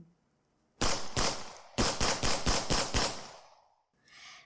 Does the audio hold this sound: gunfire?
yes